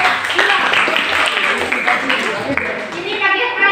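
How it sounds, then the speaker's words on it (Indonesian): Students in a school science class clap for a student group, the clapping mixed with lively children's chatter and voices close by throughout. "tepuk tangan untuk kelompok"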